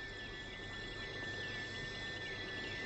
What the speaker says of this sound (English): In the dusk, the jungle crickets, thousands of them, are almost deafening.